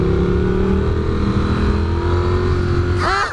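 A Triumph Speed Twin 900 motorcycle engine revs steadily close to the microphone with a rising, harmonic drone, then sweeps up sharply near the end as the bike accelerates.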